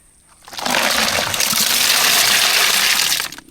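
Water gushing into a container for about three seconds, a loud near rushing pour that starts abruptly and stops sharply, heard outdoors at a beach.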